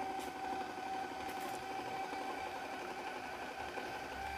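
A 58mm POS cashier receipt printer, connected by USB, prints a test page with a steady mechanical whir and buzz that runs evenly throughout, close-miked and at moderate level, with no talking.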